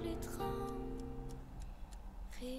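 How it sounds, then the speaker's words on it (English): A ticking effect in the Georgian Junior Eurovision 2024 song, sounding as regular light ticks over sustained tones and a soft beat. "Ticking noise as well."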